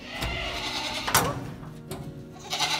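Three small goats in a former manure shed bleat nearby, a few wavering calls over a noisy, shuffling background, with occasional thuds.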